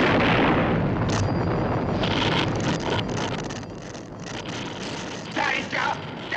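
Booming explosion effect from an Amicus science-fiction film with Daleks: a loud, sustained roar of blast and rumble, fading slightly and then flaring again toward the end.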